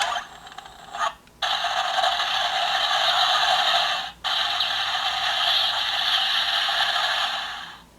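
A Wild GozyuWolf Sentai ring in a DX GozyuWolf toy plays a steady electronic finisher effect, bright and fairly loud, briefly cutting out twice before fading at the end, with no voices.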